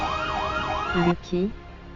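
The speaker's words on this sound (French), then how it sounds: "Une lointaine sirène de police résonna" A police siren wails in a steady rising and falling sweep, then cuts into two short whoops, moderately loud and sustained throughout.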